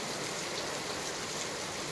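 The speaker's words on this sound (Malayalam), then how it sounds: "ഇങ്ങനെ ചതിക്കാവോ എൻ്റെ പൊന്നും മഴയെ" Heavy rain falls steadily during a long wet spell in a village home. It makes a constant, even hiss at moderate-to-low level, with no talking.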